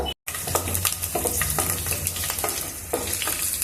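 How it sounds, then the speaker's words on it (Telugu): Garlic frying in oil for green chilli pickle: a steady close sizzle with frequent scraping stirs of a utensil against the pan, continuous and fairly loud, no talking. "వెల్లిపాయలు కూడా ఎక్కువ ఎర్రగా వేగాల్సిన అవసరం లేదు కొంచెం ఇట్లా వేగితే చాలు"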